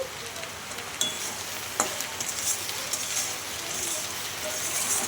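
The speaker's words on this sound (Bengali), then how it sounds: "এইভাবেই আমি আরেকটু সময় ভাজবো যাতে ভেন্ডিটাও সেদ্ধ হয়ে যায়" Okra and potato frying in a pan seasoned with salt and turmeric, making a steady close sizzle with a few sharper crackles and scraping clicks, with no voices.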